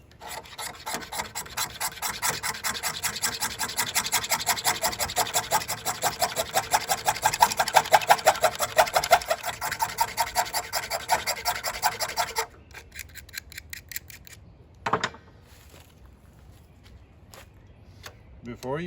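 The sharpened spine of a Stanley 10-049 knife is scraped along a piece of fatwood, making fast, rhythmic rasping strokes for about twelve seconds, followed by a pause and a few isolated scrapes.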